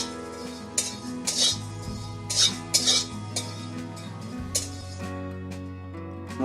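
Whole coriander and fennel seeds roasting in a kadai over medium heat, heard as irregular metallic scrapes and light clinks of a spoon against the pan over a steady background hum, close by.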